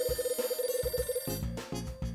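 In the video game Last Window: Secret of Cape West, a telephone rings with a fast, trilling electronic pattern over soft synth background music, heard clearly without talk.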